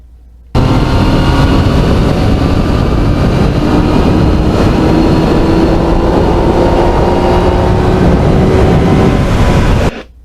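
2020 Yamaha MT-09 motorcycle with a quick shifter ridden on mountain roads, a loud continuous engine roar with rising pitch through the gears and heavy wind rush, starting abruptly and cutting off near the end.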